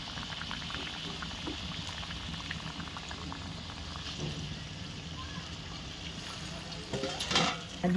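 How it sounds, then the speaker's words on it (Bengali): Water comes to a boil in a cooking pot for a fish curry, a steady soft bubbling and pattering close by, fairly quiet throughout with a slightly louder burst near the end. "জল ফুটতে লেগেছে"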